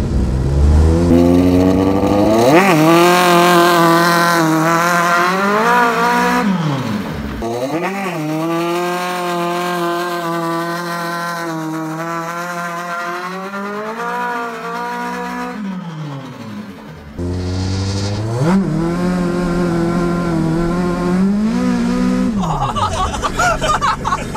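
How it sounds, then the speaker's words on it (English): A car launches hard in first gear into a burnout, its engine screaming through repeated close, loud rev sweeps that climb, hold and drop over about twenty seconds, with tire noise underneath. "It does a burnout, that's for sure"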